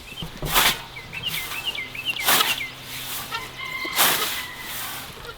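Hens cluck and chatter softly in a steady stream, broken by three louder rustling bursts nearby.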